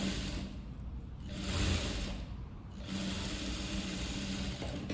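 A sewing machine runs loose stitches along a princess-cut blouse, a fast whirring rattle that speeds up and eases off in three runs with short pauses between them.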